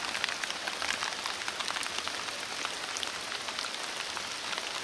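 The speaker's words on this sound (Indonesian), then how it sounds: "Hujan terus" Steady rain falls on a tent at night at a campsite in Cidahu, with dense, even pattering and fine drips close by, continuous and fairly quiet throughout.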